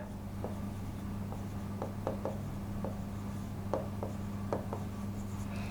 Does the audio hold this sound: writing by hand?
yes